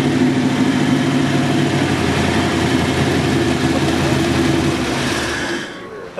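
A Shelby Cobra replica's engine runs loud and close, a dense, steady rumble held at high revs that eases off and fades slightly near the end, with no talking.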